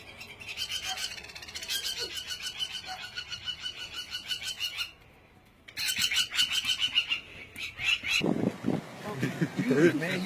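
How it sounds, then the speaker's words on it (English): A quail near a car's headlight gives repeated rapid chirping calls in bursts, broken by a short pause, with some voices and rustling around it. "There's a quail in my headlight."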